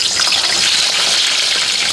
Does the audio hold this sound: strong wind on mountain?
no